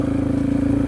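An adventure motorcycle climbs the road toward Fox Glacier, its engine giving a steady, close, rumbling drone with a fast pulsing throb through the whole short moment.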